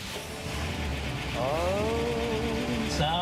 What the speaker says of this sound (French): mettez le contact. Et écoutez le moteur